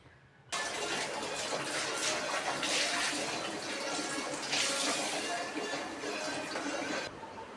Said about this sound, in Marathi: आंघोळ झाल्या झाल्या लगेच मी कपडे लगेच हातासारखे धुवून टाकते